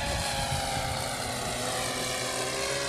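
An RC model Cessna 337 twin-engine airplane flies overhead, its propeller engines droning in a steady, loud, continuous buzz with no talk.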